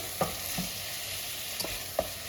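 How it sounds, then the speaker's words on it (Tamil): Tomatoes with salt sauté in a pan for a plain salna, giving a soft, steady sizzle broken by a few spoon scrapes and clicks, close and quiet, with no talking. "இது கொஞ்ச நேரம் அப்படியே வதங்கிட்டு இருக்கட்டும்"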